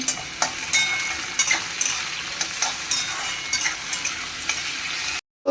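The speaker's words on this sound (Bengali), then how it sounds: "এখানে ফুলকপি আলুটা ভাজছি" Cauliflower and potato frying in a pan, a steady close sizzle broken by repeated scraping stirs, ending in a brief silence before the sizzle returns.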